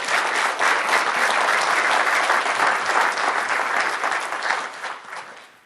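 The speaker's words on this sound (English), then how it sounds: "you can clap for me" Sustained applause from an audience at a scholar attitude presentation, loud and steady throughout with no speech over it, thinning out slightly toward the end.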